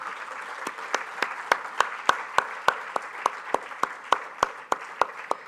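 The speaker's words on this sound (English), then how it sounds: "the Swarnkar family deserves a loud round of applause" An audience applauds at a memorial oration honouring the Swarnkar family, sharp claps sounding at a steady, fairly quick beat over a dense wash of clapping that continues evenly throughout.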